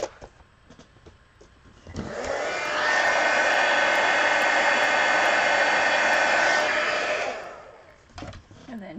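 A hair dryer blows on a freshly colored adult coloring page, starting abruptly and running loud and steady for about five seconds before winding down, with faint handling sounds before and after.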